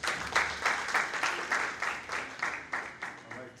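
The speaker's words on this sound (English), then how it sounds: "Another round of applause for our presenters." An audience claps for presenters at an academic conference session, a steady, moderately close round of applause that holds at an even level throughout.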